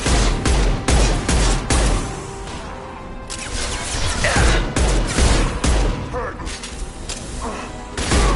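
Combat gunfire in the Mass Effect 2 video game: bursts of rapid shots and heavy thumping impacts crowd together, loud and close, with brief lulls between volleys and a game voice calling out amid the fighting.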